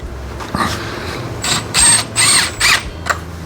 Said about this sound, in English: So last screw in the bottom here.